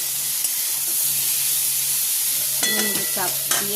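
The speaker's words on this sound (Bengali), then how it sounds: "এটা একটু নুন দিয়ে চাপা দিয়ে ভাজবো" Pumpkin, potato and chickpeas frying with salt in a covered pan, giving a steady, loud hiss and sizzle with brief higher squeaks near the end.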